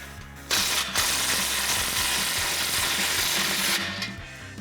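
A ratchet runs down an exhaust clamp nut on a 2015-2020 Ford F150 5.0L during a dual exhaust install, making a rapid, continuous mechanical clicking that stays close and loud, then stops abruptly.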